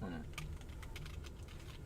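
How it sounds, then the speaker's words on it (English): Someone types on a computer keyboard, a rapid run of light clicking keystrokes heard faintly, with a voice briefly at the start. "What are you typing in?"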